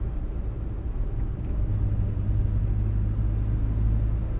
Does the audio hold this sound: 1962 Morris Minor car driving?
yes